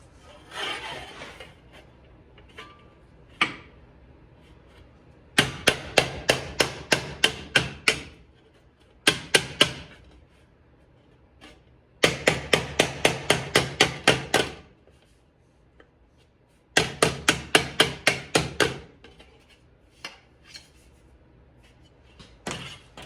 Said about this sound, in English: I'm just gonna take my hammer. I'm just gonna start wrapping it.